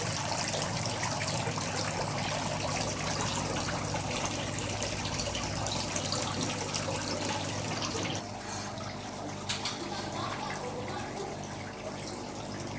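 Continuous splashing trickle of filtered water pouring out of an aquarium pond filter, steady and fairly close, with no talk over it.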